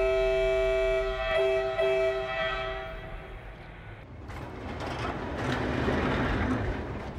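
A freight train carrying radioactive waste out of Serbia sounds a long harmonic horn blast, then rumbles and clanks along the rails in a loud, steady roar.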